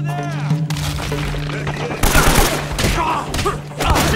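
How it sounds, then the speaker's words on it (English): Shotgun fire in the video game Uncharted: Drake's Fortune sounds as a series of loud, sharp blasts and booming cracks in quick succession, with some game background noise. "A shotgun!"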